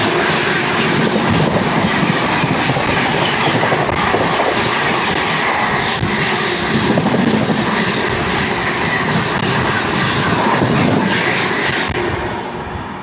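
Passenger express train, an overnight service, rolling past at a station with a loud, continuous clickety-clack of wheels over rail joints and a faint squeal, holding strong before easing slightly at the end.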